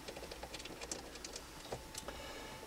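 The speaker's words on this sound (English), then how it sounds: "the ratchet socket wrench just reaches behind and lets you get hold of this one" A ratchet socket wrench turning a bolt behind the power steering motor on a 2007-era Chevy HHR 2.4L, irregular close metallic clicks and ticks over a faint steady background hum.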